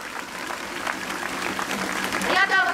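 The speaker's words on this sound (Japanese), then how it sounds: "行動提起を大きな拍手で確認いたしましょう。" Sustained audience applause at a Tokyo peace rally held in solidarity with an Okinawa prefectural protest, a dense wash of clapping throughout, swelling slightly toward the end alongside a brief voice.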